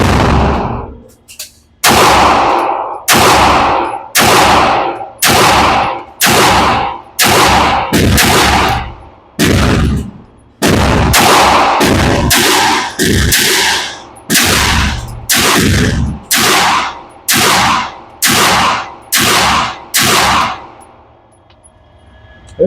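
A Mac 9 pistol fires Fiocchi ammunition at range targets outdoors, roughly twenty loud sharp shots in a steady cadence with brief pauses, each report ringing out before the next, ending in quiet.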